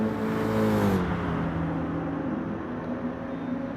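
Racing car engines from a video game race, one car overtaking another: a steady loud engine drone with harmonic tones that dip as the pitch shifts, a high whine cutting off after a second, no talk.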